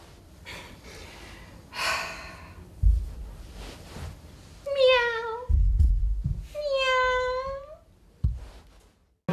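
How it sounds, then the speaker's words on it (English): A house cat gives two drawn-out, close meows in the later half, with softer breathy sounds and a voice nearby before them. "Look, that's the cat."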